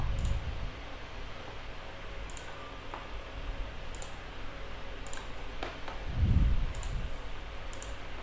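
Computer mouse clicking while using cashier software, a few sparse, faint sharp clicks spaced irregularly over steady background noise with a low rumble partway through.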